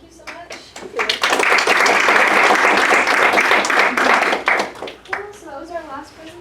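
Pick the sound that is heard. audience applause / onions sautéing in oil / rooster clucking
audience applause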